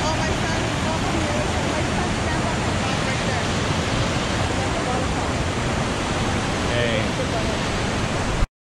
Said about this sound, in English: That's a waterfall.